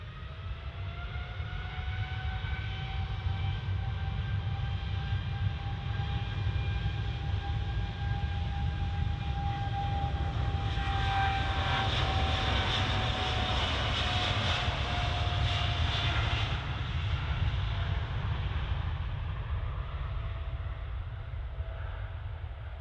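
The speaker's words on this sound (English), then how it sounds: "Next out is this rather gorgeous looking Gulf Air Dreamliner 900 series" A Gulf Air Boeing 787-9 Dreamliner taking off at Manchester Airport, a continuous loud jet roar with whining engine tones that swells and sweeps in pitch as it passes.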